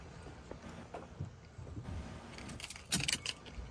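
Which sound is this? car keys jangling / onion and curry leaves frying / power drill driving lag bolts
car keys jangling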